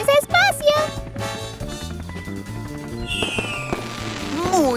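Fireworks bursting overhead at a colorful display in a children's cartoon, with bright crackling pops and whistling rises over background music and synthetic tones, fairly loud and close.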